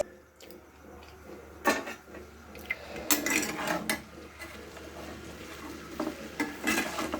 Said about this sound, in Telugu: బెండకాయని ఫ్రై చేస్తున్నాను